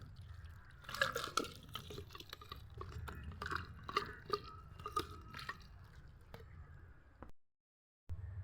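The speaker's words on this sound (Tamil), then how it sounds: "தண்ணி ஊற்றி கழுவிக்கும்" Water is poured over freshly picked guavas to wash them, giving faint trickling, dripping and splashing sounds over a low background rumble, with a brief dropout near the end.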